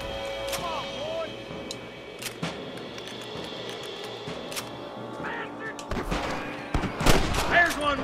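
Gunshots from the Western video game Red Dead Redemption, several sharp cracks scattered across the scene with a denser burst of fire near the end, mixed with game ambience and someone talking.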